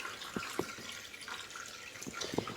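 Water drains and drips from an O-Cedar RinseClean spin mop in its bucket, giving faint, scattered splashes and trickles close by with no voices.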